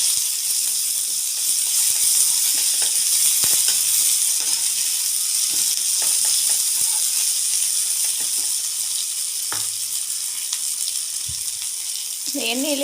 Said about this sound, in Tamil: அரிஞ்சு வச்சுருக்க வெங்காயத்தை போடணும்.